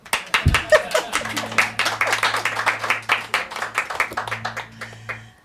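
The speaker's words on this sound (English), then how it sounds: "Feel free to clap if you want to" Worshippers clap along during the celebratory part of a church service, producing dense, rhythmic hand claps from many people over a faint sustained musical drone, with a brief thump near the start.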